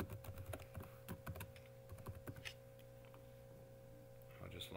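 Rapid, uneven keystrokes clatter on a computer keyboard during login, clicks coming in quick bursts with short pauses, close and fairly quiet against a faint steady hum.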